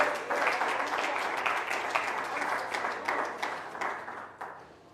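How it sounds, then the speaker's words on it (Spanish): A church congregation claps in applause to the Lord, a loud, dense burst of many hands that gradually fades over a few seconds. "Dele el aplauso al Señor."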